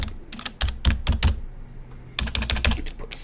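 Quick bursts of computer keyboard typing, clusters of crisp key clicks separated by a short pause, close and clear.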